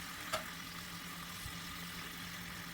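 Filipino-style pork steak sizzles in a pan of oil, browning lightly; a soft, steady frying hiss runs throughout, faint and close, with one brief clink early on.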